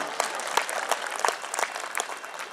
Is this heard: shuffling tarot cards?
no